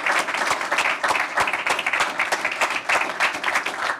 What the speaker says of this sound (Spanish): Quiero pedir un aplauso para ellos, por favor.